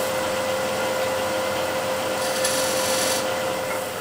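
A skew chisel cleaning up the inside shoulder of walnut turning on a lathe, a continuous close rasping scrape over the steady motor whine, swelling briefly in the middle, with no speech.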